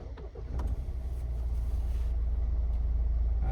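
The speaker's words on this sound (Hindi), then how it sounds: "अभी गाड़ी स्टार्ट करूंगा" A car parked at home cranks briefly and its engine catches, then settles into a steady, low, close-up idle rumble that carries on to the end.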